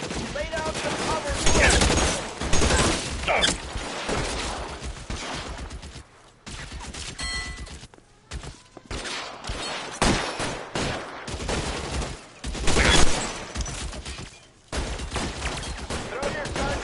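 Bursts of gunfire in the video game L.A. Noire, rapid volleys of shots in clustered bursts with brief pauses between them, loud and sharp throughout.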